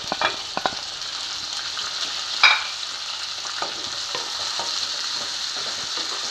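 One chopped tomato goes into onions frying in a pan for a village-style egg curry, setting off a steady, bright sizzle with a few spatula clacks and a louder knock midway, with no talk.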